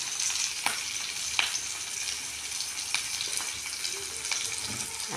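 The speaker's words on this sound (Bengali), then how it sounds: "এবার আমি কড়াতে এই পেঁয়াজ লঙ্কা ফোড়ন দিলাম।" Onion and green chilli tempering sizzles in hot oil in a wok, a continuous frying hiss with a few sharp spatula clicks and stirring noises, with no talking.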